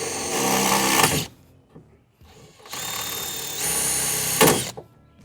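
A power drill whirring in two sustained bursts as it bores holes and hits a metal bar inside a MoMarsh Fatboy DP combo, loud and close with a short pause between runs and a squealing edge.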